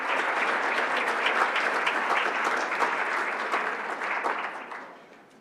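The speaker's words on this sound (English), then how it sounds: "Let's give them a round of applause." Applause at a Rochester Board of Education business meeting for scholarship recipients: a dense, steady clapping from the audience that carries on for several seconds before tapering off at the end.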